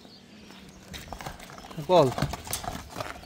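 A Kyrgyz mare's hooves clip-clop softly while someone talks nearby, with a brief sharper knock in the middle.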